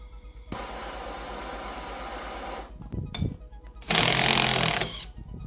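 An impact wrench hammers on the air spring of a Fox 38 suspension fork, running in a long rattling burst, pausing briefly with a few clunks, then firing again in a shorter, louder burst.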